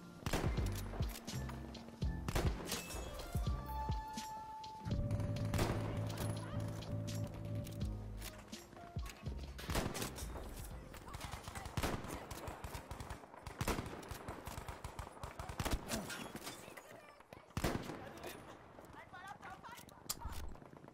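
Rapid gunfire from a competitive video game shooter, pistol and rifle shots cracking in quick bursts over game music and effects, with a player talking excitedly throughout.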